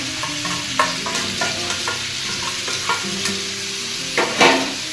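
Spice paste for coconut chicken curry being fried and stirred in a pan, loud sizzling with repeated scraping stirs and sharp spoon knocks against the pan.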